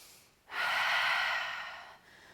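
A single long breath during a Pilates class, a steady airy rush lasting about a second and a half, close to the microphone with no voice over it.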